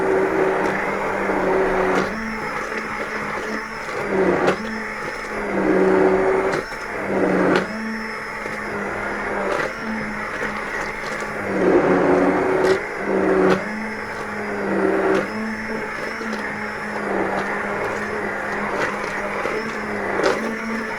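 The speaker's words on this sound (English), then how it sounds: "So we'll puree that into there." A blender purees leftover cranberry sauce, its motor roaring loud and close in repeated pulses that surge and drop every couple of seconds.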